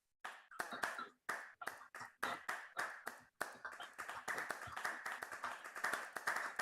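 Several people clap together over a video call, starting as separate bursts of claps with short gaps and merging into continuous, uneven applause, fairly close and clipped.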